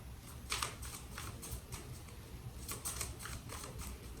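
Tarot cards are shuffled close up in quick bursts of crisp riffling and flicking, with brief pauses between the bursts.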